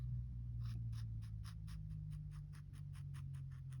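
A pen drawing a line across a graph on paper, a series of faint rhythmic scratchy strokes, about a dozen, close up over a steady low hum.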